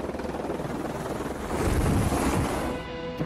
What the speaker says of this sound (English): There's a chopper behind me, isn't there?